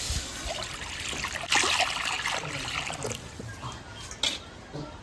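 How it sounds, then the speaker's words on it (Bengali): Water is poured into a wok ahead of boiling taro, a close steady trickle and splash with brief louder bursts over quiet kitchen background. "এবার কচু সিদ্ধ করার জন্য কড়াইতে জল দিয়ে দেবো।"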